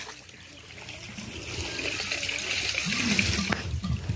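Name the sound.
water trickling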